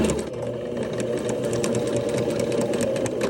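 A sewing machine backstitches through the fabric of a massage chair slipcover casing. It runs with a loud, continuous, even mechanical whir and rapid needle chatter, close and steady throughout.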